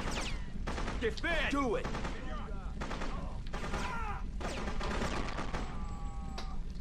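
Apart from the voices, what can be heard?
assault rifle gunfire in video game Freedom Fighters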